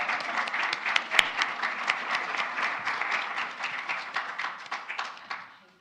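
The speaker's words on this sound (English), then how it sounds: "So if you all would stand, we'll give you a round of applause." A church congregation gives a round of applause for the ushers and greeters, a moderate, even patter of many hands clapping that holds steady, then tapers off and fades out at the end.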